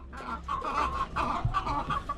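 Backyard laying hens cluck steadily and close by, several birds overlapping in a continuous murmur of short calls.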